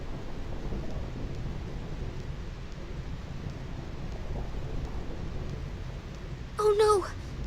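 Thunderstorm ambience on the Thunder Plains in Final Fantasy X, a dense, steady wash of rain and rumble throughout, with a short voice-like burst near the end.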